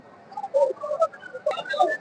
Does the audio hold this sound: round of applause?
no